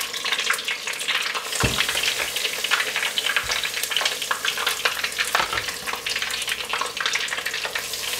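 Gluten-free beer-battered fish fries in hot oil, giving a steady, close bubbling sizzle with dense crackle and a few soft knocks, no voices.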